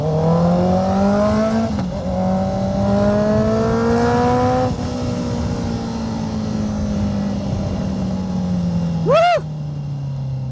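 A Honda CBR650R inline-four motorcycle idles and revs in slow traffic, its engine tone rising and falling steadily up close, with a brief sharp rev spike near the end.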